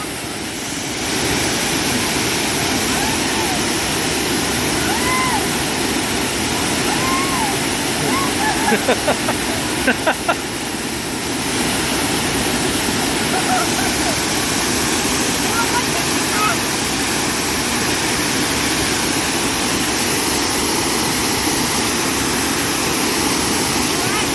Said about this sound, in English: She wants to go see how powerful that water is.